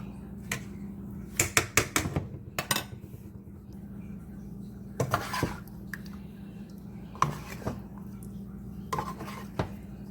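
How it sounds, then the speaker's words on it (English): Utensil stirring shrimp and lobster pasta in Alfredo sauce in a pan, with scattered close metallic clinks and scrapes in irregular bursts over a low steady kitchen hum. "Just going to stir it in, get pasta sauce all over it."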